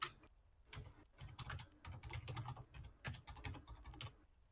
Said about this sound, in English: Oh, serious typing